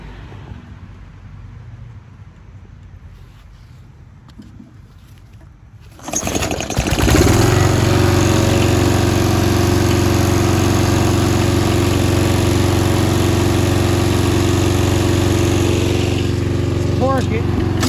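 Snapper RER riding mower with a Briggs engine fitted with a Nikki carburetor, quiet at first, then catching abruptly and running loud and steady at idle, with a person talking over it.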